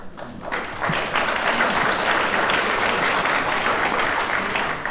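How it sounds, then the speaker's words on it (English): An audience applauds a keynote speaker at a construction summit, steady sustained clapping from many hands throughout, fairly loud and filling the room with no speech over it. "Everyone, please help me give one more round of applause to today's keynote speaker, Janeen Harrell."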